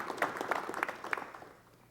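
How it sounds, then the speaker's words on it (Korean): A studio audience at a 1988 Korean television talk show gives brief applause, a few scattered claps that fade out quickly. "우리 김 여사님께 여러분 박수를 보내주시면"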